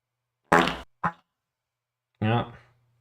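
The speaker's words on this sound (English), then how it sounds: "Fart sound." Short buzzy fart noises, apparently made by a voice, come in two quick bursts followed by a longer sputter, loud and close against silence.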